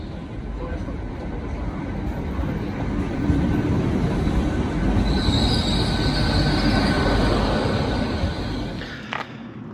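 A train rolling along the rails, a steady loud rumble of wheels with a faint squeal building partway through, heard from inside the carriage.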